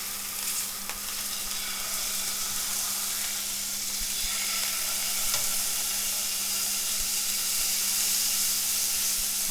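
Steak that has just been flipped sizzles steadily in a hot pan, a dense, close frying hiss with faint crackles that holds at an even level throughout, with no talking.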